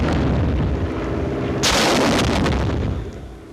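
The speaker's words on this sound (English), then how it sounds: "And these rockets are fired the same, with one exception" Rockets from a VT-fused rocket salvo fire in a sustained roar with a sharp, loud burst in the middle, dense and close throughout with no speech.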